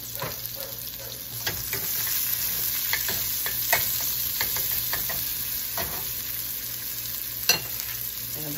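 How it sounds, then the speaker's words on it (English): Chopped shallot fries in a pan on an electric hob, a steady close sizzle with occasional stirring scrapes and light clicks, continuous and without talk. "fry up a little shallot."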